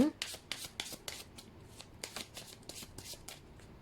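Tarot cards are shuffled by hand in a quick series of soft riffling bursts, fairly close and quiet, with no talking over them.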